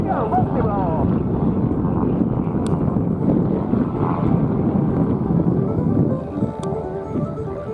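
An F-35 fighter jet flying a multi-roll demonstration at the Sun 'n Fun 2024 airshow gives a steady, loud broadband roar, with voices talking over it throughout.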